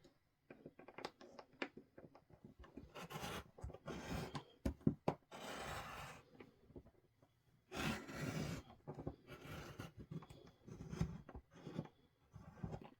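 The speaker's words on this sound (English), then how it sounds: "I just go around to make sure that my blade cut through all the way through" A craft blade slices out a white paper scrap on a cutting mat, giving close, dry scraping and rasping strokes in uneven bursts with short pauses between passes.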